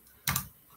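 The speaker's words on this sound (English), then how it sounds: "I'm going to start typing LB" A brief burst of a few quick keystrokes on a computer keyboard, close and crisp, surrounded by quiet room tone.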